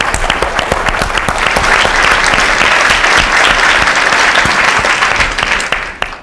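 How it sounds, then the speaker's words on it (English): A full room claps for computer science undergraduates at the SCS25 kickoff talk. The applause is steady and loud, with no talk over it, and tapers off in the last second. "I wanted a little round of applause for all of our SCS undergraduates"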